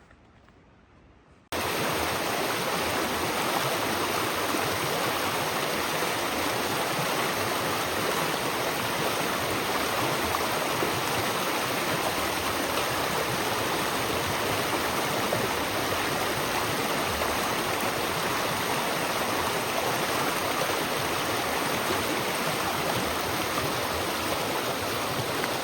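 Mountain stream along the Appalachian Trail rushing steadily, a loud continuous broadband water roar heard up close with no voices.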